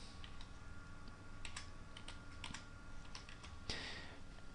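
Light typing on a computer keyboard during a Windows 7 setup: scattered quiet key clicks in short bursts, close but faint, with no talk.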